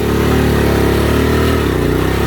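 A motorcycle engine drones loud and close while riding the rough Baboon Top track, a steady mid-pitched rumble with a slight shift in tone partway through.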